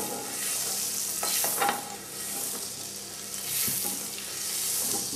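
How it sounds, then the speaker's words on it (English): Butter and oil sizzle steadily in a hot pan, a continuous hissing fry with occasional soft stirring scrapes, close and fairly loud with no voices. "I'm just going to throw a small amount of butter in it as well. Just the oil and the butter mix."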